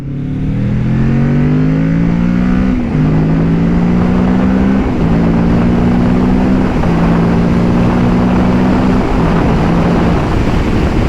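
A Kawasaki Ninja 650 motorcycle accelerating hard through the gears, loud close engine drone rising in pitch and dropping at each of several shifts, with heavy wind noise throughout.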